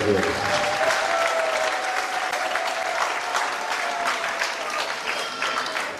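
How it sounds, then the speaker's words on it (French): Guests at a wedding blessing applaud in a sustained, even burst of clapping from a sizeable crowd, fairly loud and continuous throughout. "Applaudissez pour Anne et Dieu."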